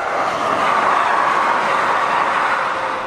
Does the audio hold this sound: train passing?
yes